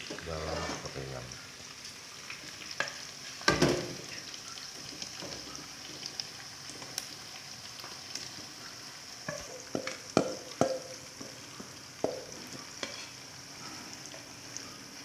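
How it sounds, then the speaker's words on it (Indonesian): Fish for Acehnese gulai sizzling in hot oil in a pan, a steady close frying hiss with scattered sharp pops and clatters of stirring, loud and continuous throughout. "Kemudian kita akan masukkan ikan ke dalam gorengan."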